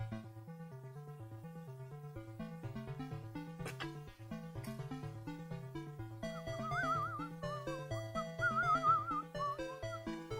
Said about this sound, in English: I shouldn't whistle. I really shouldn't.